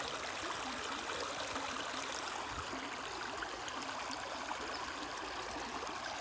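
A shallow stream of water runs over rocks, a steady, continuous trickling wash that stays faint and unbroken throughout, with no voices.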